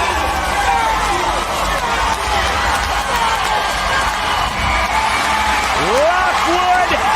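A large arena crowd at a PBR bull riding final in Manchester roars and cheers loudly and continuously after a winning ride, with whoops and swelling shouts across the whole stretch.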